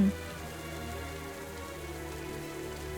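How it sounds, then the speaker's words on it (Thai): Rain falls in the video game Roblox Royale High in an even, continuous patter at moderate level, over a low steady background hum and without voices. "ทำไมมาถึงแล้วฝนตกเลยล่ะเนี่ยทำยังไงดี"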